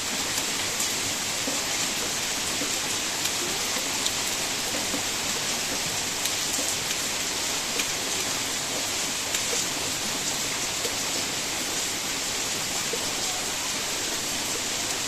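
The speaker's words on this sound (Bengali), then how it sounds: "ততক্ষণ দেখছি প্রচণ্ড বৃষ্টি শুরু হয়ে গেছে।" Heavy rain pours down in a constant, even hiss at moderate distance, steady and unbroken for the whole stretch with no voices.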